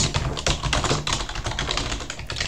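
Fast, continuous clatter of close computer keyboard keys while C++ code is entered, dense irregular clicks with brief pauses and no voices.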